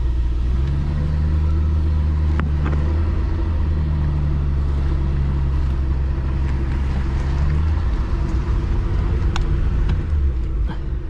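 A 1953 Plymouth Cranbrook long abandoned, with a sticking pedal, drives in first gear, its engine giving a loud, steady low rumble that swells and settles over several seconds without talk.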